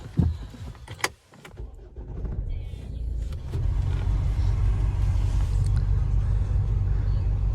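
A car engine cranks and catches, its sound swelling over a couple of seconds into a steady, even idle with a loud low rumble that holds without wavering.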